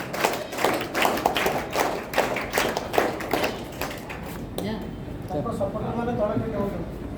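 An audience at a school felicitation ceremony at Saraswati Sishu Vidya Mandir, Choudwar, claps in a burst of sharp, overlapping claps for about four seconds. The clapping then gives way to someone speaking.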